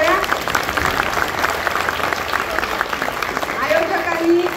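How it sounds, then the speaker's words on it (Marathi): Audience applause at an event for Girl Child Day in a Marathi school-education setting, a dense burst of clapping from a seated crowd lasting several seconds, fairly loud and steady, with a voice heard over it. "एकदा स्वतःसाठी जोरदार टाळ्या."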